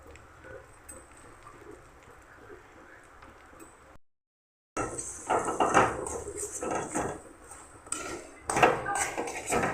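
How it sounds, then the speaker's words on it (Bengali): Food being stirred in a cooking pan, with a quiet stretch, a brief silent gap, then louder scraping and clattering of a utensil against the pot in irregular bursts. "এবার এটাকে আমি ভালো করে একটু নেড়ে নেবো।"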